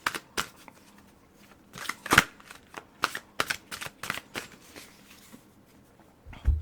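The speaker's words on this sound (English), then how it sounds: "Let's pull one from John Holland's Psychic Tarot and Oracle cards." Tarot and oracle cards are shuffled and pulled. Sharp flicks and snaps come in irregular bursts, close and fairly loud, with quiet gaps between them and no talking.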